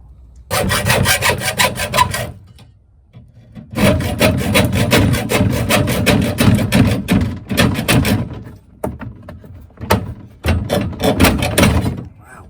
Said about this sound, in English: Fresh hacksaw blade.